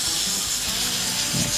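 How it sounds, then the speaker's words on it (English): A hot air tool blows steadily on an Android phone's back plate to soften the glue beneath it during a charging port repair, giving a close, continuous broadband hiss with no pauses. "To remove this plate, I need to use hot air to loosen the gum, the glue that is beneath the plate."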